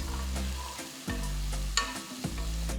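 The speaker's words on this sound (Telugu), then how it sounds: "ఆ తర్వాత చిన్నగా తరిగిన 2 ఉల్లిపాయలు కూడా వేసి 2-3 నిమిషాలు, అంటే అవి ట్రాన్స్పరెంట్గా అయ్యేంత వరకు వేయించాలి" Chopped onions, cumin and dried red chillies fry in a pan for an aloo palak sabzi, with a steady loud sizzle broken by a few short stirring scrapes and pauses; no talk.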